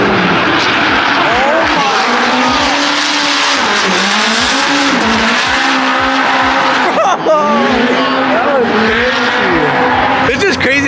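A GTR-engined drift car at the Formula Drift event in Long Beach screams past nearby with a high, rising and falling engine wail and squealing tires, loud and continuous, while people talk over it.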